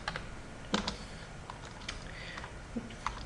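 A search is typed on a computer keyboard: light, uneven key taps with one slightly sharper click, steady and close, without any talking.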